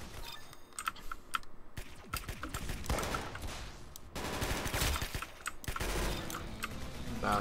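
Rapid video game gunfire rattling in quick bursts, dense and continuous across the clip, with sharp repeated shots at close range and no talk over it.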